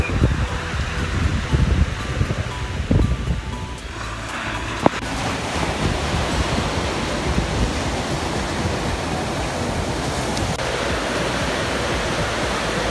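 Ocean surf rolls in at Kuta beach, Bali, seen from a rocky outcrop, a continuous broad roar of breaking waves mixed with gusty wind buffeting the microphone, loud and steady.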